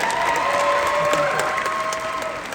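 A studio audience at a live comedy show breaks into sustained applause and cheering, a dense continuous roar of clapping that holds steady and only slightly eases toward the end, with a faint voice beneath it.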